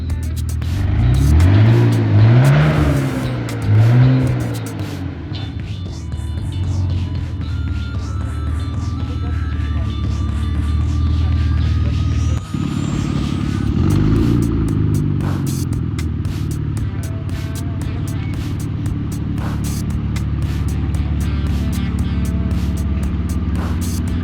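A straight-piped BMW E46 exhaust revs loudly up close, rising and falling in a couple of sharp throttle blips before settling into a steady, rough, booming idle that drones on.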